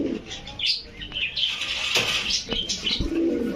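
Pigeons chirp and coo nearby amid a busy background murmur, with a few wing flutters and short sharp calls scattered throughout.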